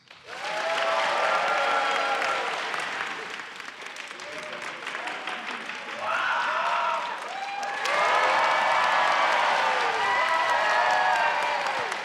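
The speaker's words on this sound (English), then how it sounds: "by round of applause, you're going to vote on 2 people to move on to the final round" A comedy roast show crowd claps and cheers in swelling waves of applause, loud and dense, rising, easing, then surging again, with whoops and shouting voices mixed through.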